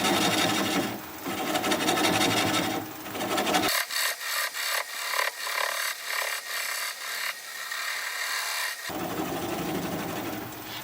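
A 3/8 inch swept-back bowl gouge cuts a small wooden bowl spinning on a lathe at slow speed, giving a steady scraping, rasping hiss with rhythmic pulses as the tool rubs the wood, close and continuous with brief pauses.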